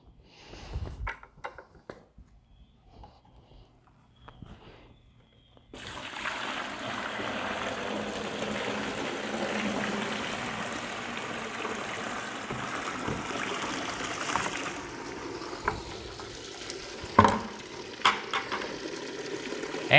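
Water runs steadily through a Hydraway basement drainage channel laid double to move more water toward a sump pump, a continuous broadband rush that starts abruptly after a quiet stretch and holds loud and close, with a few sharp knocks.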